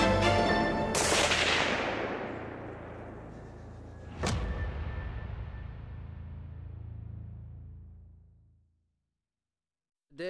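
A rifle shot cracks loudly at an outdoor shooting range, followed by a long rolling echo, then a second sharp report about four seconds later that also decays slowly before silence.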